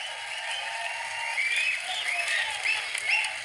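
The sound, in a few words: audience applause welcoming poet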